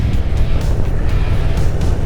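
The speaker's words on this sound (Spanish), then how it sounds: "Se siente muy buen motor" Harley-Davidson Road Glide touring motorcycle with its engine running, a steady, loud low rumble that holds throughout without pause.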